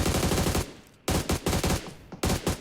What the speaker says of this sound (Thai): เมื่อกี้มันยังยิงกันเองอยู่เลยอะ